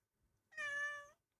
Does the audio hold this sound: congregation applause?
no